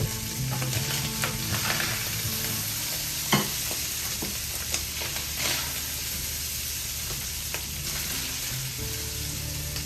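Sausage and vegetables fry in a greasy pan for stuffed peppers, a loud, even sizzle with scattered scrapes and clicks of stirring running the whole time.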